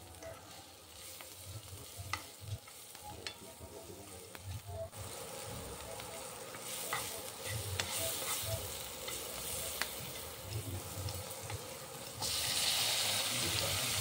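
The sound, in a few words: capsicum frying in pan for chilli paneer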